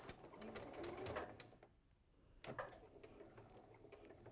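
A sewing machine stitches through thick layers of a log cabin mug mat, a fairly quiet rapid mechanical whirr that pauses briefly midway and then resumes.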